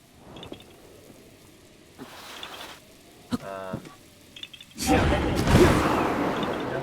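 Rain in The Legend of Zelda: Breath of the Wild begins with scattered soft bursts and then swells into a loud, steady downpour hiss near the end, with someone talking at moments.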